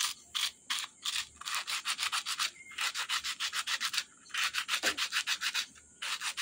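Sandpaper rubbed by hand over an aluminium tube for nerf barrels: steady rhythmic rasping strokes, loud and close, in runs separated by short pauses.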